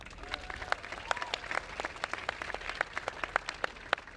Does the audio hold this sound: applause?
yes